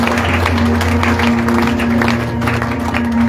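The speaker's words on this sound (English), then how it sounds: "Clap your hands for Jesus." A church conference congregation claps along in a continuous, crowded patter over steady musical tones, loud and close, with no clear speech on top.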